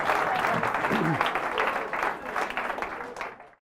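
A comedy club audience breaks into hearty applause and cheering at the close of a stand-up set, dense clapping with a voice briefly rising through it before the sound fades out.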